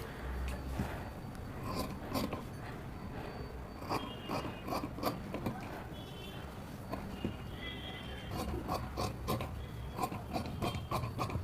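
Scissors cut through blouse fabric, giving a run of crisp, closely spaced snips and rasps up close, with occasional talking in the background.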